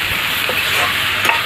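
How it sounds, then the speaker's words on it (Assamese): A mixed vegetable fry of potato, beans and carrot sizzles in a pan with a steady, close hiss of frying, while stirring scrapes through it now and then. "মই এইটো মানে সৰু আলু বিন আৰু গাজৰ মিক্স ভাজি হয় মিক্স ভাজি এইটো বনাই আছোঁ"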